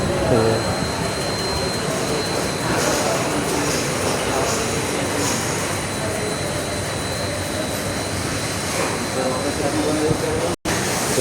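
An automatic coil rewinding machine for pump motors runs with a steady, continuous mechanical drone and a faint high whine throughout. A voice talks over it, and the sound cuts out for an instant near the end.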